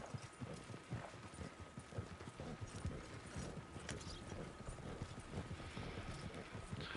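Steady clip-clop of horse hooves trotting at an even pace in Red Dead Online on PS5, with a faint mechanical clatter underneath and no voices.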